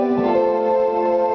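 A sustained synthesizer tone with a soft, shimmering bell-like quality, steady and resonant with no other sounds.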